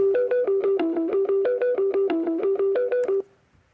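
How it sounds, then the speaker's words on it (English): Electric guitar reshaped into a synth-like pad with a shimmer effect, heard as a fast, evenly pulsing run of bright, chiming tones that stutter in steady rhythm for about three seconds and then cut off abruptly. "So I wanted to turn that into a pad. I didn't want it to sound like a guitar."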